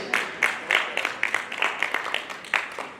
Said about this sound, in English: Please, a round of applause for Mr. Nick Odinwe